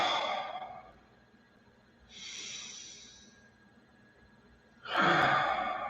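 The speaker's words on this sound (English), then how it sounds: "Close your eyes and breathe." Slow, audible breaths during a guided meditation: a long exhale, then a quieter inhale, then another strong breath, close and with quiet gaps between them.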